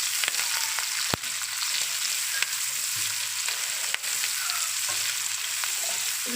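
Bell peppers and onion fry in a pan for chicken jalfrezi, giving a steady, close sizzle with a few sharp crackles and light clicks, and no talking.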